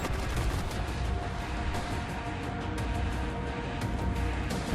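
Steady muffled gunfire and explosions in the System Crash video game, a continuous low rumble of shots that stays fairly faint throughout with no voices.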